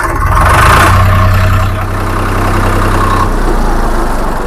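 Swaraj 735 FE tractor engine running steadily close by, a loud, even, low throbbing idle with a constant hum and no talk over it.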